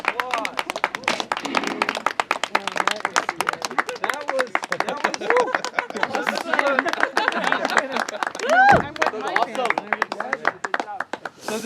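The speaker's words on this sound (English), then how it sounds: "Hey guys, that was some applause." Spectators watching a jeep climb Hell's Gate in Moab clap in a close, lively burst of sharp individual claps, with people talking and calling out over the applause throughout.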